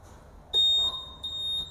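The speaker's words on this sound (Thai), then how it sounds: "เวลาเรากดตัวนี้ใช่ไหมมันจะดังมีเสียงดังนะ" A Honda Click 150i scooter, a 2022 model, gives a sharp high electronic beep when its remote button is pressed, one short tone followed by a second shorter one, close and clear over quiet background.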